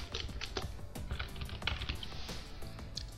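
Keys clatter on a computer keyboard in quick, uneven bursts as a short word is typed, close and moderately quiet.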